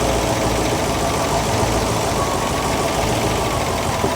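Car engine idling steadily while its carburetor idle mixture screws are adjusted toward about 800 RPM, a loud, close, even rumble with a faint knocking texture and no talk.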